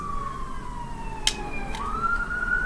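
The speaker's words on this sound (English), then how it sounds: "There's sirens." A siren wails in the distance near midnight on New Year's Eve, its pitch gliding down then rising again, faint against a quiet outdoor background, with a couple of brief clicks.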